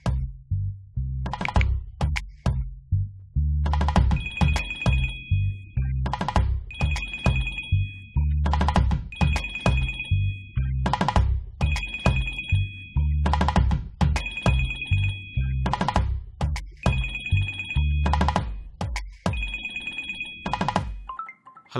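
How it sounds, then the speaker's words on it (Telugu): A phone's ringback tone during an outgoing call in a Telugu horror film, repeating in steady bursts of a bright electronic tone with short gaps, loud and clear for about twenty seconds with no talking. "ఈ అభిగాడికి ఒకసారి ఫోన్ చేద్దాం."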